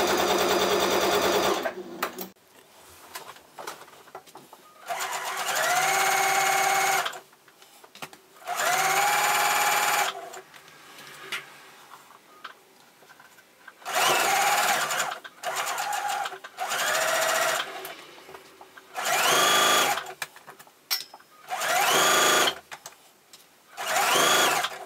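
A sewing machine stitching the shortened hem of a dress, running in repeated loud bursts of a few seconds each, separated by short pauses, with no talk over it.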